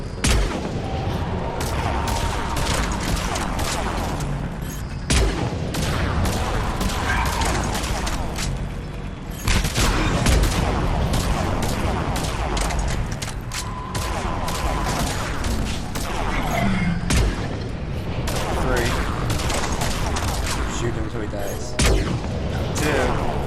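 Continuous heavy gunfire in the video game Mass Effect 3, dense overlapping shots and booming blasts filling the scene loudly throughout, with a player talking over the battle.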